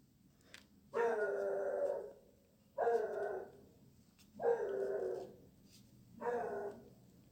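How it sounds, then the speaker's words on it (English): A pet dog gives four drawn-out, howl-like barks about two seconds apart, each lasting around a second, fairly quiet with no other sounds around them. "that's the thing with pets. They bark all the time."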